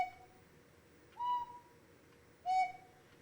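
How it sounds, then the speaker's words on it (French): A mechanical cuckoo clock sounds its call through bellows and pipes: three clear, soft tonal notes spaced about a second apart, alternating lower and higher pitch, each with a faint breathy onset, over quiet room hiss. "le coucou, dans l'horloge de coucou mécanique, le son, il est fait par des soufflets et des pipes"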